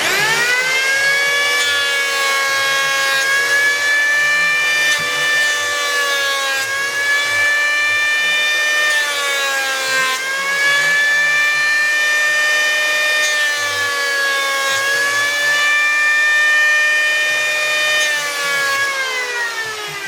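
Power tool shaving down a plastic piece, a loud steady high whine that rises and dips slightly in repeated passes, continuous and close.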